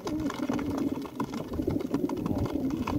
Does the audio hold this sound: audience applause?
no